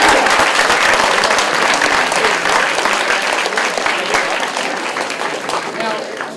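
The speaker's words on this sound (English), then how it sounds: "So give yourselves a round of applause." Members of the Walled Lake Central band applaud themselves at a Macy's event, steady loud clapping from a large group filling the whole stretch without letup.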